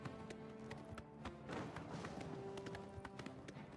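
Horse hooves clip-clop in a quick, steady rhythm of sharp taps in the Oblivion video game, quiet and somewhat distant over a soft ambient background.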